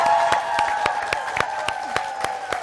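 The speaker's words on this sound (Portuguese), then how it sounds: "Uma salva de palmas para esse jovem promissor." A talent show audience applauds a young contestant with steady rhythmic clapping, sharp evenly spaced claps over a sustained musical tone.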